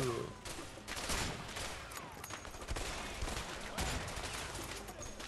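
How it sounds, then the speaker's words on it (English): Dense, continuous gunfire from a shootout in the co-op video game A Way Out, with rapid bursts and overlapping shots crackling across the whole stretch at steady loudness. "Are you being shot a lot?"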